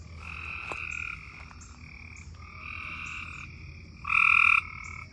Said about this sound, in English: Why are there so many frogs? There are so many frogs in this yard.